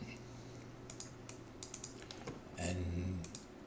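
Quiet clicking of computer keyboard keys, irregular taps scattered over a low background hum during CAD work, close but faint.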